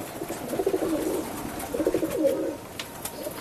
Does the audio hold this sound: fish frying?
no